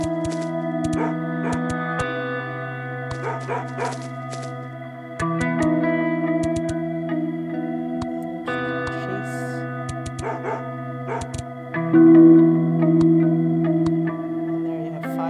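Dog barks sound in the puzzle game A Memory Maze, short bursts heard over sustained, layered synth chords that shift every few seconds, the game music and effects carrying the clip with no talk.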